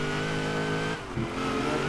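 An 800-horsepower rear-wheel-drive muscle car in Forza Horizon 3 revs loud and close, its engine note holding steady, dipping briefly at the midpoint, then climbing again.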